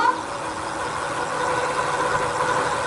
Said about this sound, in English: You can see I'm just going to twist the throttle here.